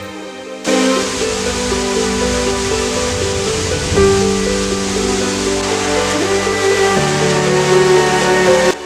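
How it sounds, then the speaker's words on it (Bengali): Monsoon waterfall in Purulia, India, water plunging down in a steady, loud, continuous roar with broadband rushing noise throughout, no voices. "এখান থেকে জল নিচে নেমে যাচ্ছে"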